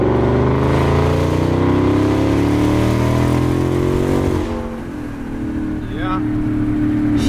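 A 2022 EcoBoost car in Grabber Blue Metallic revs hard nearby with a loud, deep exhaust note that climbs and then drops back, while a voice briefly speaks over it.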